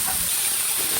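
Chopped onion, green chilli and curry leaves hit hot oil in a pan over raised heat, giving a steady, loud, close hiss of sizzling with no talk.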